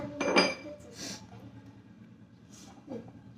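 Crushed almonds drop into a glass, giving a close clink and rattle at the start, followed by fainter clinks of the glass and someone talking lightly.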